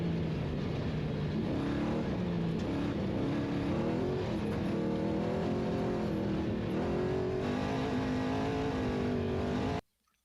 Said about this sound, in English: Let's go back to listening to the throttle control and watch the hands of Larry Ragland.